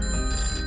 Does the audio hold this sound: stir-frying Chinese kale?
no